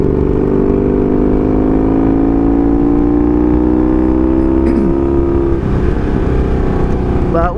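A Honda Magna motorcycle engine holds a loud, steady, throaty idle that rises slowly in pitch as it is revved up close, ending with a brief flutter.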